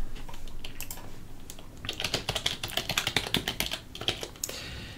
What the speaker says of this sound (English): You can start typing and typing and typing and typing.